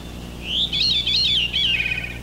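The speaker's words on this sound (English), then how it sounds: "birdsong is also swearing" Songbird chirps and warbling phrases in spring woodland, a bright clear call rising and falling in quick connected notes for nearly two seconds over quiet background hum.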